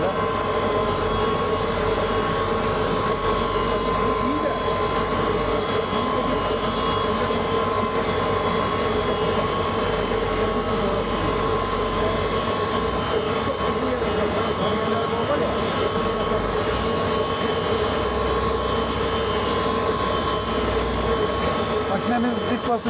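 An ADELSAN FIRTINA stone cutting machine runs continuously at a quarry, a loud, dense mechanical roar with steady hum and rattle throughout, heard up close without pause.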